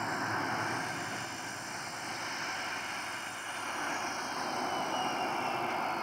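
An airliner's engines run steadily after landing at an airport, a loud continuous broadband roar and whine that holds evenly throughout with no pauses.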